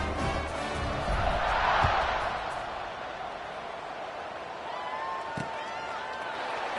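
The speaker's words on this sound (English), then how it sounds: "this crowd is buzzing after that last score" Steady roar of a stadium crowd buzzing after a score in the College Football 26 video game, Arizona State dynasty, a dense continuous swell that peaks briefly and holds under a commentator's play-by-play voice.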